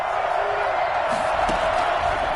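A large stadium crowd at a football game roars and cheers in a steady wash of distant noise, with a few whoops rising above it.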